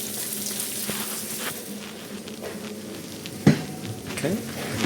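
Bacon sizzles and crackles steadily in a frying pan for spaghetti carbonara, a close, continuous hiss with occasional stirring clatter and a sharper pop or knock near the end, no voices.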